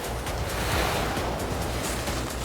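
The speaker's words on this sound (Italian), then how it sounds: "Vento e neve." Wind and snow roar across a ski slope during an alpine ski race, a steady broadband rush that swells and fades, loud and close with no talk.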